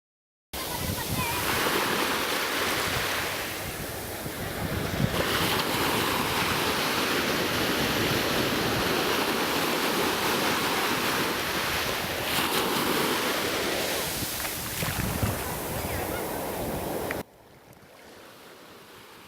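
Sea waves wash steadily onto a shore in a loud, continuous roar with wind noise, holding for about seventeen seconds before dropping abruptly to a quieter hiss.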